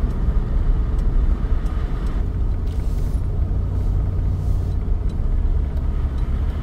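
Steady low rumble of a mini RV's engine and road noise while driving through a small town, loud and continuous with faint higher ticks and hiss passing over it.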